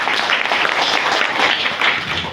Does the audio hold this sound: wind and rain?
no